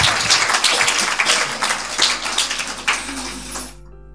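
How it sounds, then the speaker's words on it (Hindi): Audience applause at a Sunday school children's Christmas drama in a church, a dense patter of clapping that holds steady for several seconds and then cuts off abruptly. "सबकी भरपूर तालियां।"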